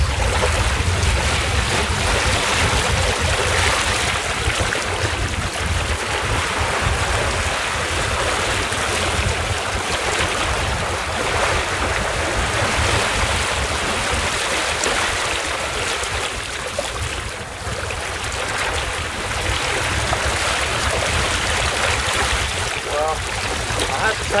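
A trailer sailer sailboat under spinnaker runs through waves with the tide, giving a steady rush of water and wind noise against the hull throughout, close and constant.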